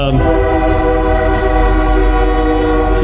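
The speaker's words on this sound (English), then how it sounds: "And the train is close, as you can hear" A train rumbles close by, its horn sounding a sustained, loud tone over the steady roar of rolling cars.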